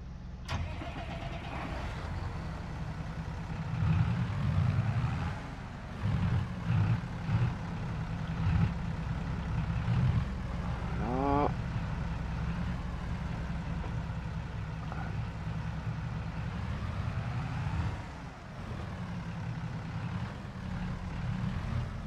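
A tractor engine in the Farming Simulator 22 video game cranks, starts and settles into a steady mid-pitched running drone, with a few revving swells along the way and little or no talk over it.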